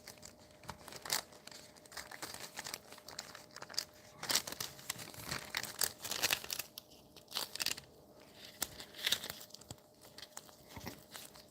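Quiet, irregular crinkly cuts and taps as a color-blended polymer clay slab is sliced into small pieces, a steady run of soft close-up clicks and scrapes with no talking.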